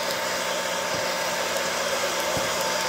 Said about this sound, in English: Let it blow all that chaff off.